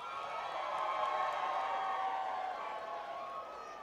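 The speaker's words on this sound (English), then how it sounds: "let's hear your round of applause for so far your favorite" A studio crowd on a radio show applauds and cheers for contestants, a steady, muffled wash of clapping and whoops that stays even and fairly faint throughout.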